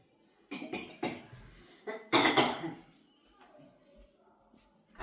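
Several harsh coughs from a man with a cold, near and loud, in two bursts with a short pause between, followed by quiet room sound.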